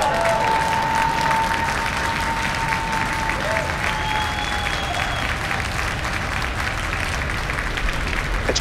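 A Falcon 9 rocket lifts off on a OneWeb satellite launch, its steady, loud broadband roar running unbroken through the whole stretch, with faint thin tones drifting above it.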